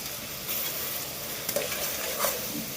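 Masala frying in a pan while being stirred for a simple kushka biryani rice, a steady close sizzle with scraping stir strokes throughout and no voices.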